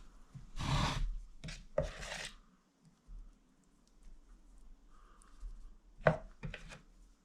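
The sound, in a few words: spoon worked through wet plaster in a mould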